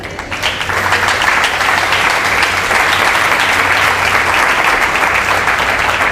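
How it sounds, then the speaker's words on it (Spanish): Loud, sustained applause from a large crowd at a church conference, a dense continuous patter of clapping that holds steady throughout. "Dale un aplauso a Cristo."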